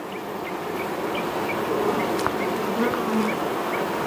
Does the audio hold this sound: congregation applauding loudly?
no